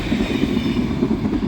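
A passenger train rolls past close by with a loud, continuous low rumble and a faint rhythmic clatter of wheels over the rails.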